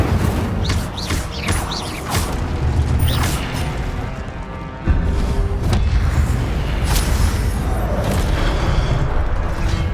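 Rapid magical spell effects from Hogwarts Legacy gameplay, including the Incendio fire spell, come as dense booming, crackling bursts and whooshes layered over a continuous loud rumbling game soundscape, with a sharp heavier surge about halfway through.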